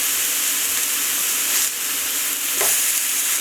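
Pineapple caramelizing in a hot pan gives off a steady, close sizzle and frying hiss, with a brief stir or spatter partway through and no voices.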